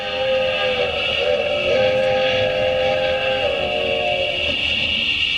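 A train rumbles steadily while a long, sustained whistle or horn sounds over it, loud and continuous for the whole stretch.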